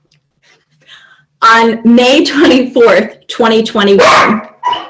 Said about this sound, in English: oops, sorry, that's my dog.